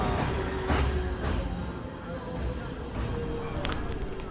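Steady rumble of a moving Mumbai local train carriage, a continuous low roar with rattling and a brief high squeal near the end.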